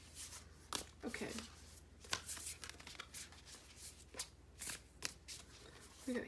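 Tarot cards, stiff and hard to shuffle, are shuffled in quick riffling bursts, close and crisp, several rounds with short pauses between them.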